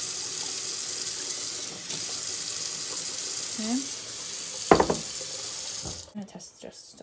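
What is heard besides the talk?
water running from tap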